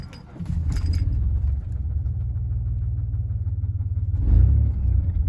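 A 2000 Chevy S10 pickup carrying a P0300 misfire code cranks and catches, then settles into a loud, steady idle. The close, rumbling engine pulses evenly, with a brief surge in the last second.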